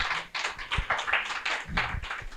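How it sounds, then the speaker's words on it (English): Audience clapping for a panel at the close of an elder abuse and fraud prevention training session, a brief burst of hand claps with uneven rhythm and no talking. "We give them a round of applause."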